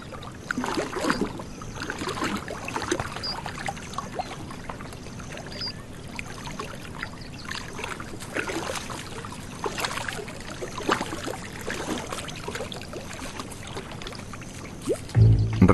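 Lions wade through shallow water in a swampy African floodplain, producing steady sloshing and splashing close by, with a trickling, churning texture and no voices.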